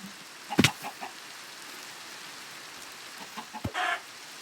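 A few short chicken clucks from Minecraft chickens pop up in two brief bursts against a quiet, faintly hissing background.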